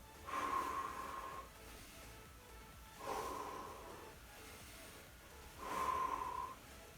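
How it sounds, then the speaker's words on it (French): Three bursts of forceful breathing during a lower-body muscle-strengthening leg exercise, each blowing out for about a second at a steady, widely spaced rhythm, heard close and alone. "on souffle quand on monte et on inspire quand on redescend"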